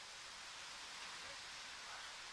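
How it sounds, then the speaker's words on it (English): Heavy rain hammering down, heard as a faint, even hiss of steady downpour with no distinct drops and no voices. "I don't know if you can hear the rain."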